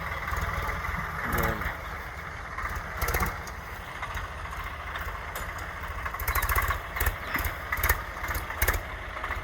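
A 744 tractor engine running with a cutter attached behind in a farm field, a steady low mechanical drone with uneven surges and rattling bursts, fairly close and without speech.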